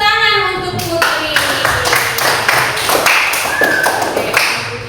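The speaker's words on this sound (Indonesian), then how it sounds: "Kasih tepuk tangan untuk Putri." A classroom of schoolchildren claps together for a student, a burst of quick overlapping hand claps in an uneven rhythm, close and loud, following a sustained tone at the start.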